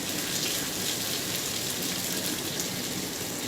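Chopped onions hit hot oil already seasoned with bay leaf, cardamom and cinnamon while duck curry is being cooked, giving a steady, even hiss of sizzling that stays constant throughout without talk.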